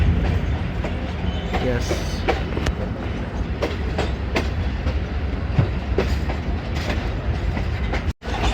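The 41 Up Karakoram Express rolls from Faisalabad toward Lahore, with a steady loud rumble of old coaches and rhythmic clickety-clack of the wheels, briefly under a voice.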